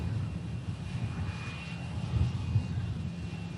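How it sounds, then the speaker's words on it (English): A Loganair Dash 8 turboprop taxis at Manchester Airport, a steady, moderately distant engine drone with a faint high whine, continuous for a few seconds with no talk. "And here's that lovely Dash taxi now."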